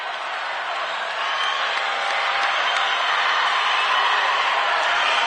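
Crowd cheering at a swimming championship relay final in Orlando, a steady, loud roar of many voices that builds slightly over the clip, with no distinct claps or single voices standing out.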